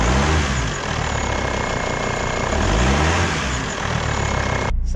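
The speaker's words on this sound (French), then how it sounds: "Ça y est, nous voilà partis pour la Volvo XC90." A Volvo XC90 D5 diesel drives off on the road, its engine droning steadily from inside the cabin with a rise and fall in pitch as it pulls away, loud and unbroken.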